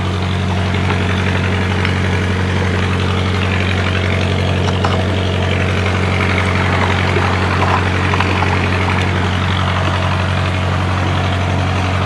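An irrigation pump station engine on a rice farm running steadily, a loud constant low-pitched droning hum with a thick mechanical rumble and no changes in level, with no talking.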